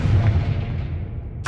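A Confringo fire spell in Hogwarts Legacy lands as a heavy booming blast that rolls off and fades over about a second, followed by a sharp new burst at the end.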